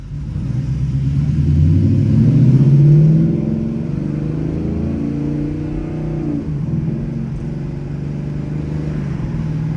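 Ford Mustang GT V8 engine revving hard under acceleration, then dropping back with a downshift blip, a loud, close, continuous growl with no talking.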